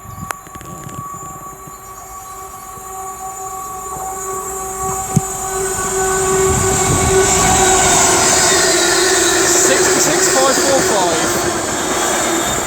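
A Freightliner Class 66 diesel hauls a freight train past on a main line, its roar swelling and holding loud alongside steady wheel and rail noise, a brief horn-like tone early on and voices talking faintly underneath.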